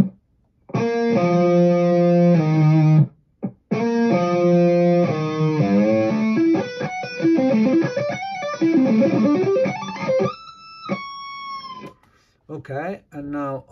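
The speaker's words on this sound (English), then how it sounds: "So together with the Tube Screamer on, I got more distortion" Electric guitar played through a Tube Screamer overdrive pedal for a lead tone, loud sustained distorted chords and then a flowing legato lead run, with brief breaks between phrases.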